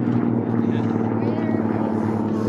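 A racing aircraft makes a pass during an air race at the Las Cruces Air and Space Expo in New Mexico: a steady, loud engine drone with a sustained tone, heard under continuous commentator talk.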